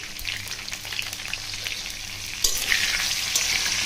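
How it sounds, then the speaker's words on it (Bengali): Potato pieces fry in hot oil with salt and turmeric, giving a dense, close crackling sizzle that swells louder partway through as they are stirred. "প্রথমে আলুগুলো ভাজার সময় একটু নুন আর একটু হলুদ গুঁড়ো দেবো"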